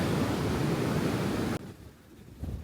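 Strong wind roars and buffets loudly at the seashore of Kapalı Maraş (Varosha), then drops off abruptly to a quieter rushing background.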